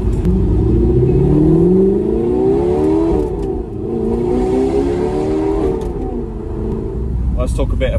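Audi R8 engine idling loudly through a new aftermarket exhaust, a deep steady rumble with slow swells in pitch, close by and continuous for the whole stretch.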